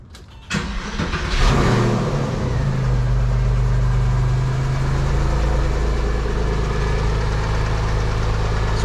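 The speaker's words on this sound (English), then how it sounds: "I'm gonna go ahead and start the car" A Porsche 911 996 flat-six cranks briefly, catches with a sharp rise, then settles into a loud, steady, close idle that runs on alone without talk.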